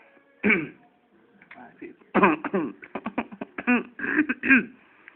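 A man coughs and clears his throat in several rough, close bursts, with short pauses between the harsh throaty sounds.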